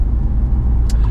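A 503 bhp Alfa Romeo Giulia Quadrifoglio driving in normal mode on a UK road, a loud, steady low engine and road rumble from inside the cabin, with a brief hiss near the end.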